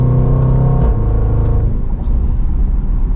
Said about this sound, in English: This will be like our mild passing acceleration is what I will call it.